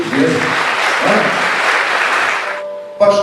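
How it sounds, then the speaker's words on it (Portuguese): A church congregation bursts into dense, steady clapping during a morning service. The applause stops abruptly, and a single voice briefly follows. "Pode aplaudir, foi bonito mesmo."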